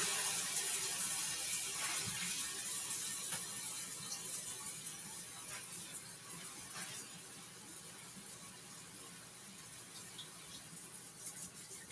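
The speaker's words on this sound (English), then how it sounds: "Now, I am going to wash my hands" Tap water runs steadily into a kitchen sink while hands are washed, a soft continuous splashing stream with faint clinks and shifts, gradually easing slightly in loudness over about twelve seconds.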